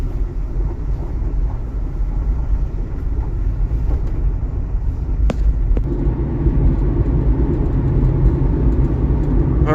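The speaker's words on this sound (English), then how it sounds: "here we are, just kind of driving along here, doing the speed limit" Car on its first drive after an engine swap, cruising at the speed limit: a steady, loud low engine and road drone fills the cabin throughout, with a couple of faint clicks and no talking.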